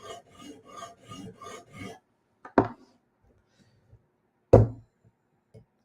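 Hinderer knife blade drawn across a Hapstone RS guided sharpener, a run of six short regular rasping strokes followed by two separate sharp knocks with quiet gaps between, close and fairly loud.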